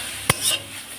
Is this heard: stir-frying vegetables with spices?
yes